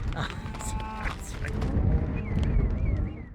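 Cattle lowing on a wet, snowy Montana cattle drive, several moos close by with hoof clatter and outdoor noise, and people talking faintly in the background.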